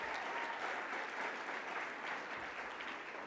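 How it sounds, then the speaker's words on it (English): Audience applause at the Friends of National Service Awards ceremony, a dense, even wash of clapping from a crowd that holds steady and moderately loud throughout. "One last thing, you could please,"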